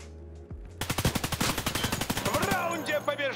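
An automatic weapon fires a long rapid burst in Escape from Tarkov Arena, a close, loud string of evenly spaced shots, followed by a brief voice as the firing stops.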